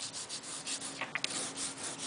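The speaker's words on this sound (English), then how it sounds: "Maybe red, maybe blue. You're going to rub it." Colour is rubbed onto a drawing of a dog house with short, soft, steady rasping strokes, faint and close, with no talk.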